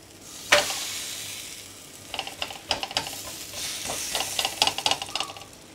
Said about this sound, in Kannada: ತವಾ ಕಾಯಲಿಕ್ಕೆ ಇಟ್ಟಿದ್ದೀನಿ ನಾನು ಮೊದಲೇ. ಈಗ ರೊಟ್ಟಿಯನ್ನು ಅದಕ್ಕೆ ಹಾಕಿ